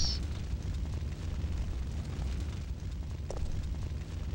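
A video game explosion in Resident Evil 3: Nemesis, a sustained deep rumbling roar that fills the scene evenly at moderate loudness, with no voices.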